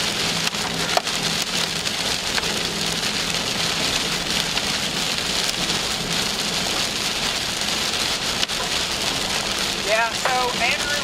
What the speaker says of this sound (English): We are going back into the hail again.